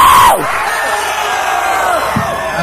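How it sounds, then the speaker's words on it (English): A crowd at a metal fest screaming and cheering loudly in a sustained roar, with a shouted voice over the mic at the start and occasional whoops cutting through. "You need to scream louder than that."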